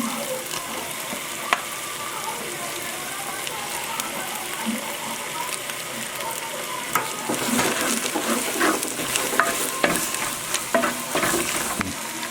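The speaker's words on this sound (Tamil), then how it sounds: "இப்போ வந்து பிச்சு வச்ச சிக்கனை போட்டுக்கலாங்க." Shredded chicken hits a hot pan of frying egg and onion for kothu parotta, sizzling and spattering steadily up close, with stirring and scraping growing busier toward the end.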